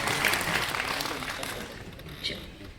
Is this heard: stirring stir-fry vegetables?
no